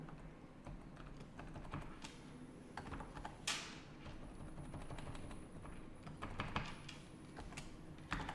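Quiet, close typing on a computer keyboard while editing Excel cells, with quick irregular runs of key clicks and a few heavier taps, soft against a low room hum.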